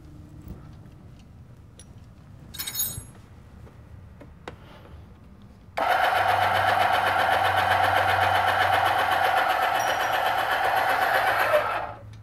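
An electric trailer jack on a weight distribution hitch setup whirs steadily as it lowers, a loud, even motor drone starting abruptly midway and running alone for several seconds after a faint clink earlier.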